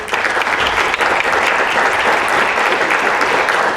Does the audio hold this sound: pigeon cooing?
no